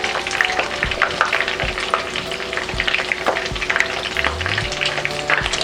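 Crabs (kasag) frying in oil, a continuous bubbling crackle with scattered pops and a few low knocks of a utensil, close and steady, no talking.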